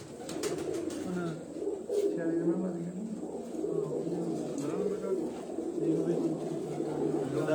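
A group of eleven racing pigeons on a rooftop loft coo in low, overlapping throaty rolls close by, with people talking and faint chirps mixed in.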